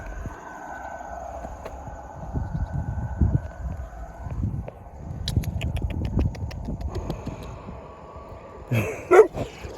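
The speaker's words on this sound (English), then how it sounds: "I'm here with a dog." A dog barks and yips in short bursts at middling distance, with a whimpering tone and steady rumbling noise underneath, on a Mississippi River crossing.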